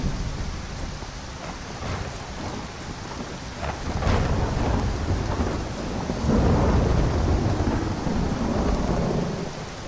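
Heavy rain pours down steadily in Skyrim while thunder rumbles low and rolls through, swelling louder midway, with no voices over the dense downpour.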